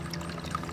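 A backyard garden water feature beside a pond with horsetails, water lettuce and irises trickles and pours steadily, a soft continuous splashing held close and even throughout, with no voices.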